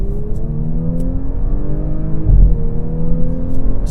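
A 2018 Audi S4 Prestige with S-sport package accelerates on the road, its engine note rising steadily under constant road and cabin rumble, close and fairly loud, with no talking.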